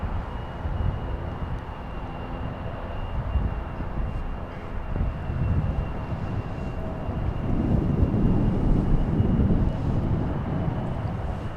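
Scandinavian Airlines jet departing Los Angeles International Airport on a gusty day, a steady distant engine roar that swells louder toward the end, mixed with wind buffeting the microphone and no talk.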